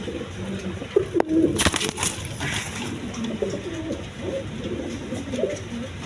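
Giribaz pigeons, including two large males, coo repeatedly in low, soft bubbling phrases, with a brief burst of flapping or rustling early on; nearby and moderately loud.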